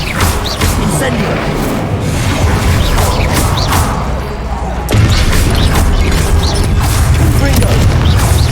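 An Incendio fire spell is cast in the wizarding game Hogwarts Legacy, a dense roaring blast with booming thuds and whooshes amid a busy, loud battle, with a voice talking over it.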